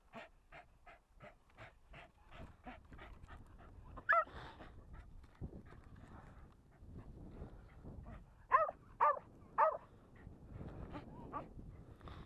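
A dog near a flying model A6M Zero RC plane pants and whimpers in quick rhythmic bursts, with a few sharper yips and barks breaking out, close and fairly loud, with no talk.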